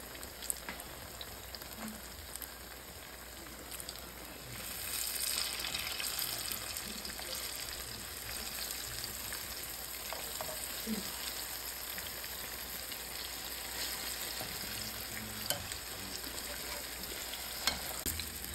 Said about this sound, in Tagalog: Mag-plito ng saging.